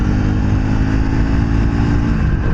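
A Triumph Speed 400 motorcycle engine holds a loud, steady, close drone while riding. The low rumble stays constant, with no break in the engine note.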